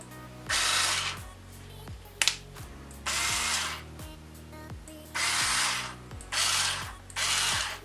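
A Bosch IXO cordless screwdriver whirs in short repeated bursts, starting and stopping about four times, with clicks and mechanical rattling between runs.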